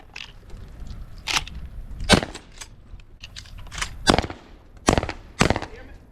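Shotgun blasts from pigeon hunting around loaded grain bins in North Dakota: about seven sharp, loud reports fired at irregular intervals, close by, with faint voices between shots.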